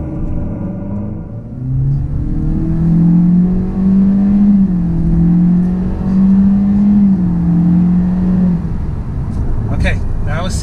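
A 2019 Honda Accord Sport with the 1.5L turbo accelerates hard from a stop, engine note climbing steadily in pitch over several seconds before easing off, heard from inside the cabin.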